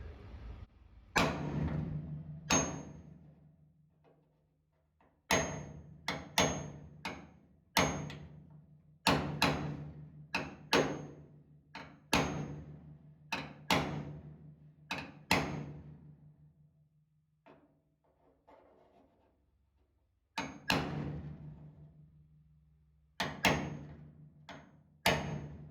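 Hammer blows knocking down small humps in the metal dash pan of a first-generation Firebird or Camaro: sharp ringing metallic strikes in irregular bursts, close and loud, with short pauses between groups.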